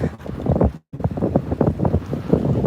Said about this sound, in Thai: เห็นไหมลมแรงมากเลย